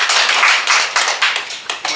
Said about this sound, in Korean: 후보자 긴장하실 건데 열심히 하라고 박수 좀 쳐주십시오